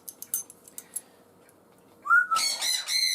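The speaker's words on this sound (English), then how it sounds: "I ought to roast up that bird." A loud bird calls close by near a river: a few faint clicks first, then a rising whistle followed by a burst of harsh, repeated squawking notes.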